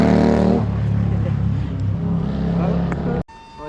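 A Suzuki GSX-S 1000 motorcycle running on E85 ethanol revs loudly and steadily up close, its harmonic engine drone rising and falling, then cutting off sharply near the end, with voices talking over it.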